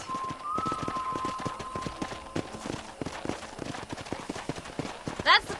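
Horse hooves clip-clop steadily at a corral in the Red Dead Redemption video game, a rhythmic run of close, crisp hoofbeats with a whistle-like tone early and a brief sharp sound near the end.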